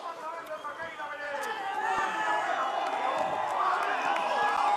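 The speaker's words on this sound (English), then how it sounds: "some of the crowd have made it down to the finish corral. They're cheering at him from the sides there" Crowd noise at a freeride ski finish corral at Baqueira Beret, Spain: a broad wash of cheering and chatter that swells and stays dense and loud, with a commentator's voice speaking over it throughout.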